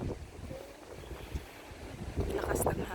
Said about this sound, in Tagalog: Lakas ng hangin. Naririnig nyo naman.